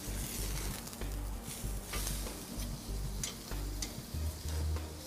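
Beef steak searing in a hot pan, a steady close sizzle broken by scraping and clinks as the meat is flipped over, with a brief low thump near the end and no speech.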